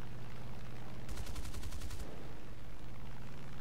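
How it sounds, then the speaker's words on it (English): Rapid aircraft gunfire from an AD-2 Skyraider in War Thunder, a loud machine-gun burst of about one second with dense evenly spaced shots over steady engine drone, then only the drone continues. "the only thing that I can do is harvest with gunfire"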